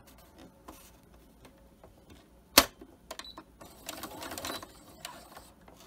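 Sewing machine stitching a reversible fabric mask: faint scattered clicks and a sharp tap, then a short, quiet burst of mechanical whirring under a second before it stops.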